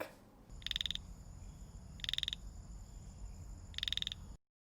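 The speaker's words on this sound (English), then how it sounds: "your banded bullfrog. Introduced species, but very vocal" A banded bullfrog gives three loud, buzzy croaks spaced evenly apart over a low steady background rumble, then silence.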